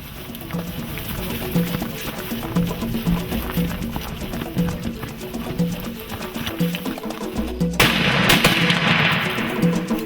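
Rifle fire during a dangerous-game safari hunt for a bull: one sharp, loud crack bursts out near the end over continuous rumbling, shuffling movement noise outdoors.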